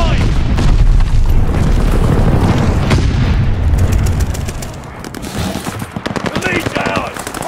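In Call of Duty: Vanguard multiplayer, an aircraft strafing run unleashes loud, rapid machine-gun fire mixed with heavy booming explosions, dense at first, then thinning into sharp staccato bursts, with a voice speaking partway through.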